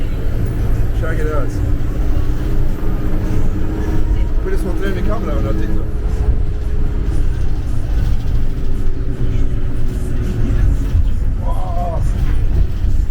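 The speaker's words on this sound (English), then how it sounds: "we're in the bus now" Inside a bus bouncing along the road from Valparaíso to Viña del Mar, Chile, a steady low engine and road rumble runs throughout, with people talking over it.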